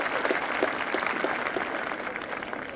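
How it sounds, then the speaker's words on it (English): A high school graduation crowd breaks into a round of applause, a dense, sustained clapping that fills the space and tapers slightly toward the end. "Can we get a round of applause for that?"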